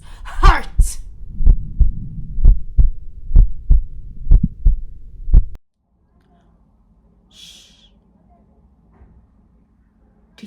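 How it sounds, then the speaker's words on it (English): A heartbeat effect of deep, close, evenly paced thumps, about a dozen in a row, rises in loudness under a dramatic voice, then stops abruptly into near silence. "It is the beating of his hideous heart."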